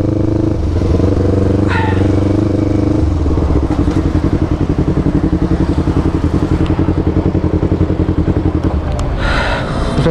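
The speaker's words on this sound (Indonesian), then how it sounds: "Ya gua matiin dulu nih motor gua," Motorcycle engine running in a steady, fast-pulsing idle with clattering mechanical noise, loud and close throughout.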